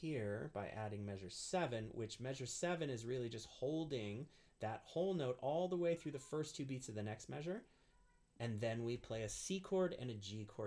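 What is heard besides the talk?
No everyday noise stands out behind the speech.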